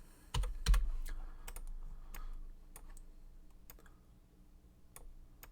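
Keys clacking on a computer keyboard, a few louder strikes at first followed by a sparse run of quieter, irregular taps, close and alone without talking.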